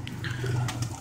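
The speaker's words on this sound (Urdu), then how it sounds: "وہ میرا ماشاءاللہ کمگر کبوتر ہے" A Kamagar pigeon coos softly in a loft, one low drawn-out call close by over faint background noise.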